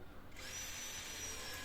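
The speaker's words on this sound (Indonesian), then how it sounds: "mode drilling dan di speed 1 menggunakan mata bor kipas 16 mili. Saya akan bor kayu ini posisi vertikal." A Hasston cordless drill in drilling mode at speed 1 spins a 16 mm spade bit into a thick block of wood, starting with a rising whir then a steady loud grinding drone, close and alone.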